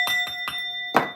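A bell is struck four times, three evenly spaced ringing hits followed by a slightly louder fourth after a short pause, each with a sustained metallic tone, close and alone without speech.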